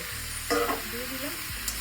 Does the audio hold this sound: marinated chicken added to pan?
yes